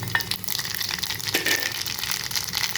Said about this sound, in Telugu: ఇప్పుడు కొంచెం పోపు గింజలు వేస్తున్నాండి